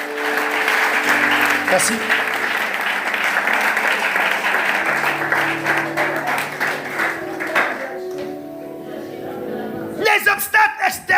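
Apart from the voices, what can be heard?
congregation applauding for Zaché and his team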